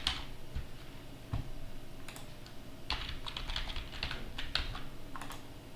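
Fingers type in short bursts on a computer keyboard, clustered rapid clicks with brief pauses, close and moderately loud in a quiet room.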